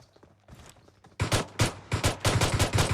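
Gunfire in the mobile battle royale game PUBG Mobile: a few faint distant pops, then a loud burst of rapid shots in quick, uneven succession, each one sharp and close.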